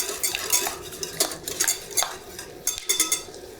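A utensil scrapes and taps briskly against a pan as hazelnut praline caramelizes, a string of sharp metallic scrapes and clinks in an irregular rhythm, close up and fairly quiet.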